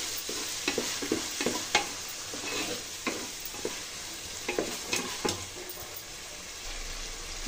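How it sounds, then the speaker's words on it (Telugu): Chopped tomatoes sizzle and fry in a pan for chicken biryani while a spoon stirs them, giving steady close crackling with repeated scraping strokes. "ఈ టమాటాలంతా బాగా కలుపుకొని బాగా మెత్తగా అయ్యేంత వరకు కుక్ చేసుకోవాలి."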